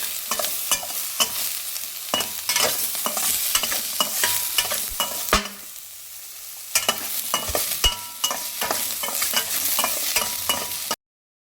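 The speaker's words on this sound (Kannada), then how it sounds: "ಆಯಿಲಲ್ಲೇ ಈರುಳ್ಳಿ ಬೆಳ್ಳುಳ್ಳಿ ಇದನ್ನೆಲ್ಲ ನೀಟಾಗಿ ಚೆನ್ನಾಗಿ ಹುರ್ಕೊಳ್ಳಿ." Chopped onion and garlic frying in oil in a pan for pea curry, loud close sizzling punctuated by repeated scraping clatters of a spoon stirring, with a short quieter pause midway.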